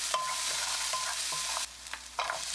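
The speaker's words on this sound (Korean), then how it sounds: "식용유 1스푼 더 넣고 당근 넣어서 1분 볶습니다." Potatoes and carrots stir-fry in cooking oil in a pan, a steady close sizzle broken by a few scraping stirs of a utensil against the pan.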